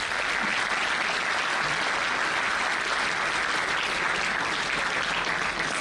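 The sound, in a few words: round of applause at a graduation ceremony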